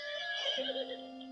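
A Mongolian horse gives one close, shrill, quavering whinny that lasts about a second and then fades, with no talk over it.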